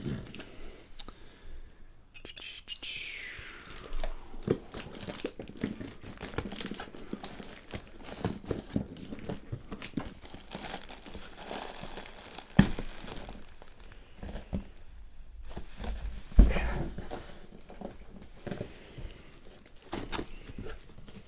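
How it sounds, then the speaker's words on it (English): Packaging around a new drum kit frame is cut open, giving quiet scattered crinkles, rustles and small clicks, with a couple of sharper knocks and handling bumps at close range. "Let's cut this open."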